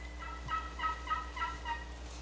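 A wild turkey in a backyard practice pen gobbles in a quick series of faint, rattling notes, heard from a distance against quiet outdoor background with no talking.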